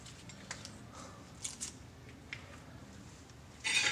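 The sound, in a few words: unwrapping packaging of new wheel bearing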